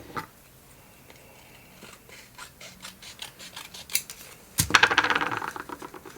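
A run of quick, light snips and rustles as scissors cut paper for a whimsical collage, growing busier toward the end with a sharper burst of paper handling, close and without talk.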